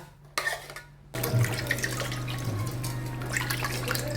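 Water is poured from a small amount into thick starch paste to loosen it for dipping cloth, a steady splashing trickle that follows a few brief knocks at the start and continues alone.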